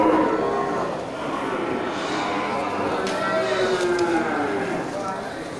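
Cattle mooing repeatedly at an Aceh livestock market, with long drawn-out lowing calls overlapping one another amid a noisy crowd of animals and people talking.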